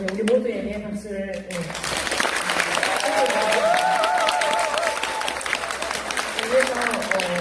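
Sustained audience applause fills a seminar hall for World AIDS Day hosted by a Korean family health association, steady and dense throughout, with a voice speaking over the start before the clapping swells.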